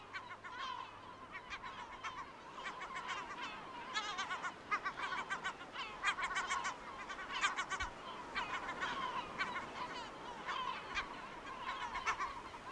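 Gulls, among them Audouin's gulls, call repeatedly from a breeding colony on the coast of Cabrera National Park, a busy overlapping chorus of mid-pitched cries at moderate distance over a steady outdoor background, with no talking.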